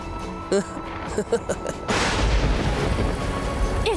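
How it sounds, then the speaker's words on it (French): Steady rain sets in suddenly and keeps pouring as a dense hiss, after a few quiet vocal sounds and thumps. "Il est en train de pleuvoir."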